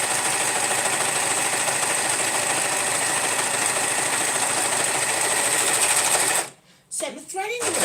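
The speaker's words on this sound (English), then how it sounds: "What happens with the serger is there's a knife that comes through and cuts off the bit that you don't need" Serger with a cutting knife trimming fabric while it sews, a loud, steady, high-pitched mechanical drone running close for over six seconds before cutting out, followed by a short rustle of handling.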